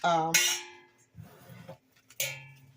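Butter being scraped off its wrapper paper in a home kitchen while making peach filling, a short rough scraping rasp framed by a few bright metallic clinks, close and loud.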